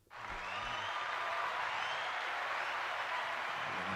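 Sustained applause from a live podcast audience, a dense steady wash of many hands clapping that swells in quickly and holds at full strength throughout.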